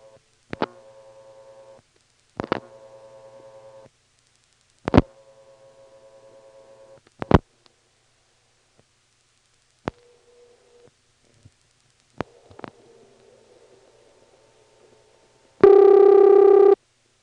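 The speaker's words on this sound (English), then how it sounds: "here's a ringing number in Ramseur" A 1977 step-by-step telephone exchange in Ramseur, North Carolina, gives its ringing signal on a locally dialed line: four steady ring tones about two seconds apart, each opened by a sharp click, then more clicks, a faint hum and a loud closing tone.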